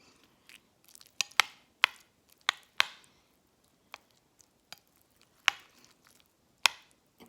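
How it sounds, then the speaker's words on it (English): Grits with bacon and sharp cheddar are mixed together in a pot, giving a series of sharp, isolated wet scrapes and squishy clicks at an irregular pace, fairly close, with silence between strokes. "I'm gonna mix it all in"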